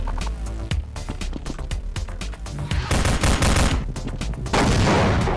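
Rapid video game gunfire from Codename: Gordon, dense bursts of sharp shots in quick succession, loud and near, growing heavier toward the end, with no talk over it.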